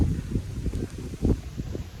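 Wind blows against the microphone outdoors in Mauritius under light rain, arriving in low rumbling gusts that rise and fall irregularly, close and moderately loud.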